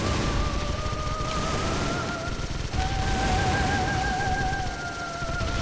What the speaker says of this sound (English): the machine gun got him anyway.